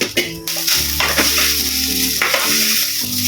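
Adobo sa puti stirred in a frying pan, loud sizzling oil with scraping utensil strokes, several stirs with short bursts over a steady fry, close and without talk.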